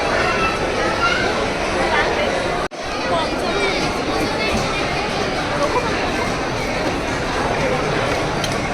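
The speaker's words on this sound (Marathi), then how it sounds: "काय गर्दी खूप आहे आज" Busy shopping-mall crowd chatter: a dense, steady babble of many overlapping voices and footsteps filling a large indoor space, with a brief dropout partway through before the hubbub resumes.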